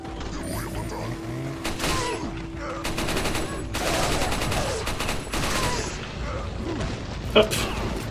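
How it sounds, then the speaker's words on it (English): Video game gunfire in two overlapping streams, one character's shots masking the other's, bursts of rapid firing and booms rising and falling over a constant background din, with a sharp single crack near the end. "his gunfire is just conveniently drowning out her gunfire"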